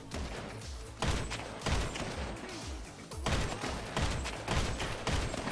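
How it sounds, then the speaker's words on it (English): Marksman rifle gunfire in GTA Online, a series of loud, sharp shots landing roughly every second, with booming tails and overlapping battle noise between them. "I think this man is trying to shoot him with a marksman rifle."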